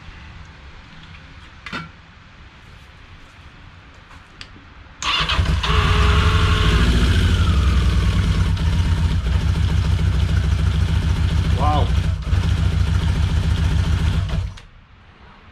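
A 1982 Yamaha XJ650 Maxim motorcycle left sitting for five years starts up and idles loudly and steadily for about ten seconds before shutting off, with a brief exclamation and quieter handling noise before and after.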